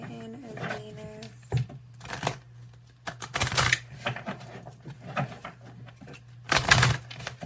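Tarot cards shuffled by hand in bursts of riffling and sliding, with quieter gaps between, over a steady low hum.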